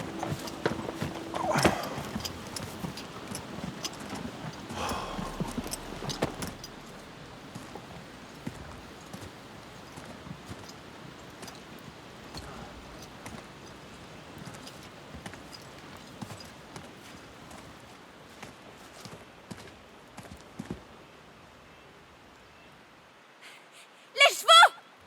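Several horses clip-clop at a walk on a French musketeer-era road. The hooves sound steady and moderately close, with voices talking over them and a louder burst near the end.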